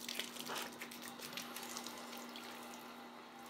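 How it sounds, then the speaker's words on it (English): Water gushes and splashes out of a hose drained from a household expansion tank, loud at first and then settling into a steady spattering flow over a faint electrical hum. "now I'm gonna open the hose and let water out"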